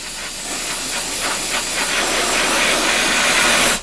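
An aerosol spray can lets out one steady, close hiss lasting nearly four seconds, with no talking.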